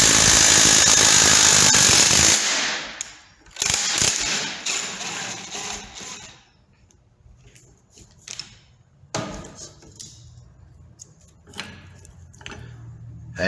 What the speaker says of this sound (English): I'm going to do a little cheating here with an electric impact.